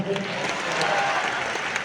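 Audience applause at a Hindi song performance, a steady dense wash of clapping filling the short stretch at moderate loudness.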